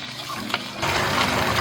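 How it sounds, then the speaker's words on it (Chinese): Thin starch slurry poured into a simmering black vinegar sauce of rock sugar, Yongchun aged vinegar and water in a wok, a steady liquid pour and bubbling that grows louder partway through, with no talk. "好，接下来我们就来一点水淀粉"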